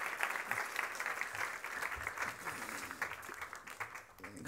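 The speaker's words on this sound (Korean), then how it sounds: "박수 한번 주십시오." A church worship audience claps in a sustained burst of applause that fills the room, steady and fairly loud before tapering slightly at the end.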